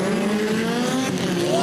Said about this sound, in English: Tiger's transmission chattering away at the bottom of the hill